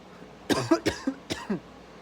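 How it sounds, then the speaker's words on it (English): A man coughs in a quick run of about five or six harsh bursts, close and fairly loud, with brief gaps between them and quiet on either side. "Sorry again for the cough"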